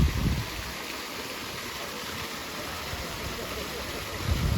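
A city fountain flows with a steady rushing, hissing wash of water, constant and moderately loud throughout, with low rumbling underneath.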